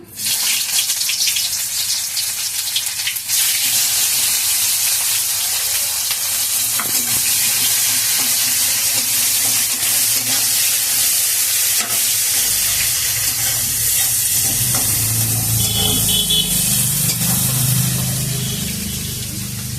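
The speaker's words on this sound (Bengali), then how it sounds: "পেঁয়াজ, লঙ্কা আর এটা আদা, কেটে রাখা পেঁয়াজগুলো দিয়ে দিলাম।" Chopped onions, green chilli and ginger sizzle and crackle in hot oil in a pan for a dal with jute greens, a loud steady fry with stirring scrapes, its tone shifting partway through as more ingredients go in.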